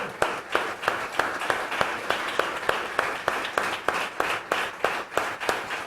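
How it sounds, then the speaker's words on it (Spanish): A church congregation claps in a steady, rhythmic beat, sharp regular hand claps repeating for several seconds like praise clapping during a worship service, moderately loud and continuous. "Démosle un aplauso al Señor Jesús."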